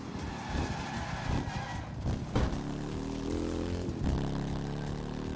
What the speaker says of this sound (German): der Sound von der Harley ist aber wirklich gut